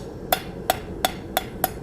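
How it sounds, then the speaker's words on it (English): Five sharp, ringing hammer blows on a steel taper at the anvil during forging, evenly spaced about a third of a second apart, clear and close with a bright metallic ring and no talk. "or the angle of that taper with my hammer and trying to match it with the anvil as well"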